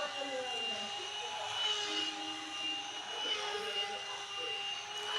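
An electric fan whirs steadily in a room, giving a constant motor hum with a faint whine that wavers slightly while a voice talks over it.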